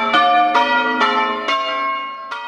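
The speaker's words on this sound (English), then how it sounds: "the refurbished bells were returned and put back in place" Refurbished church bells ring in the West Hanningfield belfry, five loud, resonant strikes at uneven intervals, each with a long shimmering ring that overlaps the next, with no voices.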